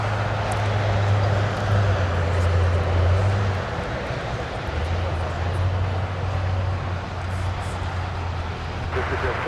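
A departing airliner at LAX, a steady broadband jet roar with a low engine drone that holds at a fairly loud level throughout, dipping briefly midway, with talk heard over it.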